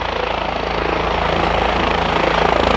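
A helicopter sits after landing with its rotor still running, giving a loud, continuous whooshing drone with a faint rhythmic beat and no voices.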